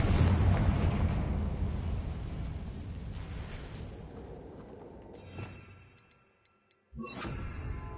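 A Confringo blasting spell explodes in the video game Hogwarts Legacy, a loud rumbling blast that slowly decays into near silence before a sharp, bright burst of impact sound cuts back in.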